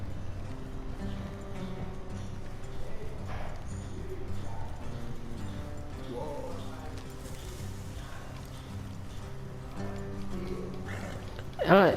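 Horse hooves clip-clop in a steady galloping rhythm in Red Dead Redemption 2, continuous and fairly close, with a voice talking over them and a short burst of louder noise at the end.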